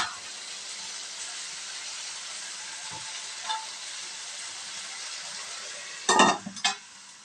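Eggplant masala for vangi bath sizzles softly in a pan, a faint, steady hiss near the cooktop, ending with a few louder clattering scrapes as it is stirred.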